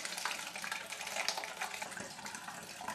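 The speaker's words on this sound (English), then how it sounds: "you're going to strain it one more time into the bottle" Homemade ginger beer is strained and poured into a bottle, a soft continuous trickling and splashing of liquid, fairly faint and close, running steadily without pause.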